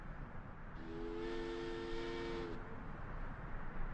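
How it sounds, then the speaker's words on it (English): Steam train whistle from the Syberia II video game, a sustained multi-tone blast lasting under two seconds over a faint background hum, sounding alone without talk. "You've never heard a train whistle."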